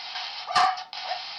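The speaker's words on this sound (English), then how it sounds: "Dogs are barking." A single short dog bark cuts through a steady band of static-like noise, close and fairly loud, with no talk.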